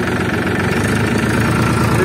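A tractor engine with a cultivator attached chugs steadily at idle with a low, knocking rumble and vibration, close by and continuous.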